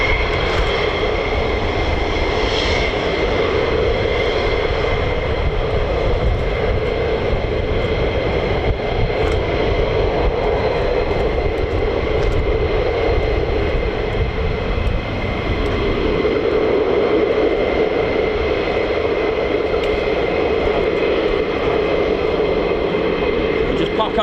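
F-15 or F-35 fighter jet engines at RAF Lakenheath hold a loud, steady roar with a broadband rumble and a whining tone at the end of the runway, unbroken for the whole stretch.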